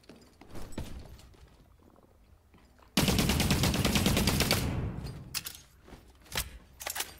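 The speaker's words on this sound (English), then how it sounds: "Shots fired." Gunfire in the video game The Cycle: Frontier on Tharis Island: a few scattered single shots, then a sudden loud sustained burst of rapid automatic fire lasting about two seconds, followed by sparse trailing shots and clatter.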